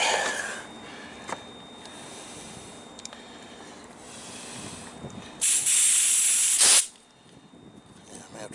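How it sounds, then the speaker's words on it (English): An air hose blasts compressed air at a Freightliner truck's windshield washer hose, one loud hissing burst of about a second and a half after quieter shop noise and faint sounds of handling. "So let me hit that with the air hose real quick."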